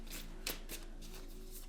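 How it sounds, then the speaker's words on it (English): Lover's Oracle cards shuffled by hand during a pick-a-card tarot reading, a few soft, close riffling swishes over a quiet background with no talk. "So we're going to shuffle and pull some cards from the Lover's Oracle."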